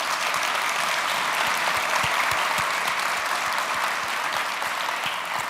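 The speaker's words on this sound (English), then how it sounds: "So let's give these finalists, please, a big round of applause." Large conference audience applauding finalists at a keynote session, broad sustained clapping from many hands, even and continuous, slowly fading slightly toward the end, no voices over it.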